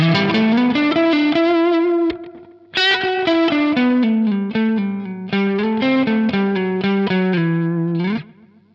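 A warm electric guitar on the neck pickup, pushed clean through a NUX Masamune compressor and boost pedal, plays a flowing melodic run of notes, briefly pausing before continuing, ending on a ringing note.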